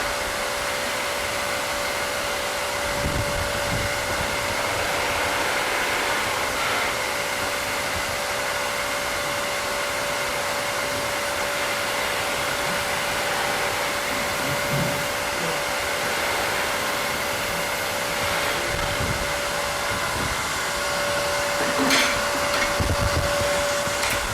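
A wood lathe spins steadily while a skew chisel peels cuts along a V on a small turned piece, giving a continuous whirring drone with a steady tone and occasional light scraping bursts, with no talking.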